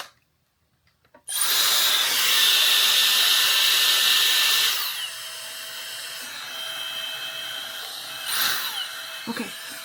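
A Dyson Airstrait hair styler switches on after a moment of silence and blows air with a loud, high whirring rush for a few seconds, then settles into a quieter, steady hum with a couple of brief bumps near the end.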